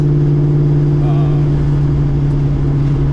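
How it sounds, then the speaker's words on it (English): A 1998 Ford Mustang Cobra with American Racing headers and an off-road X-pipe exhaust idles loud and close, a deep steady rumble with a faint throttle blip partway through. "Speaking of the sound, the exhaust breakdown, I have a American Racing headers."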